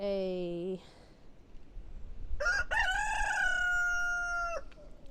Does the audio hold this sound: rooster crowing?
yes